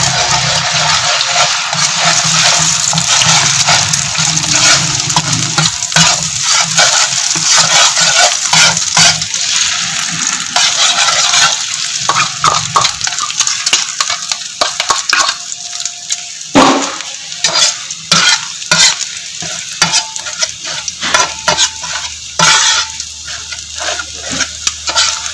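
Eggs frying in cooking oil in a pan make a loud, continuous sizzle with frequent spatula scrapes and taps, and the crackle becomes choppier and more broken toward the end.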